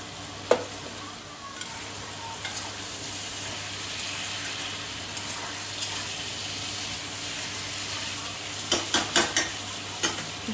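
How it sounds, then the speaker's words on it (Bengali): Vegetables and spices sautéing in a pan with chopped tomato added, for a vegetable khichuri with dalia and oats; a steady loud sizzle with stirring scrapes and a quick run of utensil taps near the end. "সব কিছু দিয়ে আমি খুব ভালো করে কষিয়ে নেব। এবার আমি দিয়ে দেবো টমেটো কুচি।"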